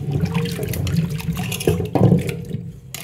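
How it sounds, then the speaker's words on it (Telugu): Amla gooseberries being washed by hand in water make close splashing and sloshing, with uneven bursts of swirling water and no talking. "ఇలా వాటర్లో వేసుకొని కడుక్కోవాలండి."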